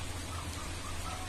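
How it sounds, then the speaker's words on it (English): Rain falling outside on a wet evening near a small garden, a soft, even patter that stays steady and fairly quiet through the short stretch, with no voices. "You can see it's raining now."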